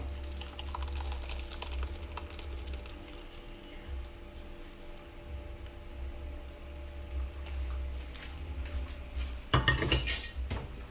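Curdled milk being strained with kitchen utensils while making rabdi, light clinks and scrapes of metal over a low steady hum, with a louder clatter of pans near the end.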